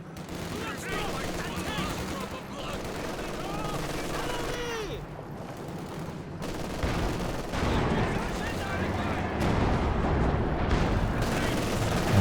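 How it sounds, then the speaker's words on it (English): An SU-76 artillery barrage in the Company of Heroes 2 strategy game, heard amid a dense, continuous roar of gunfire and explosions that runs under a commentator's steady talk. "Range SU-76 barrage on the MG, but the scatter is wild from that range."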